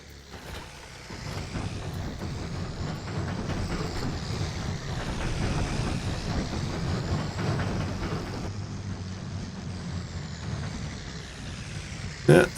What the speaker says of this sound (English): It's a big, beefy tractor, and it sounds like a sewing machine.